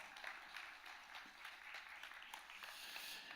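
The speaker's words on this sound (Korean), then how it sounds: "새벽부터 박수를 쳐주셔서 감사합니다" A church congregation applauding at an early-morning service, a faint, even patter of many hands clapping without pause.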